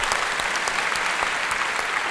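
Steady applause from an audience at an Italian live show, a dense wash of many hands clapping, loud and continuous throughout, with no voices rising above it.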